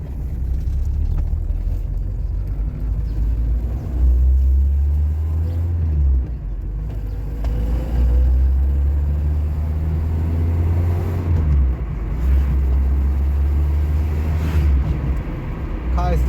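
A VW Golf Mk1 that has just been fixed for a cold-start problem drives while still cold. Its engine gives a steady, loud low rumble that swells and eases with throttle, and a voice talks over it.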